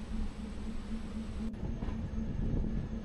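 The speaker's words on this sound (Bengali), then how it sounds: "এখন ট্রেন বর্ধমান ঢুকছে" Darjeeling Mail train pulling into Bardhaman station at night, heard from inside as a steady low rumble of the moving carriages with a faint tonal hum, close and continuous, no talking.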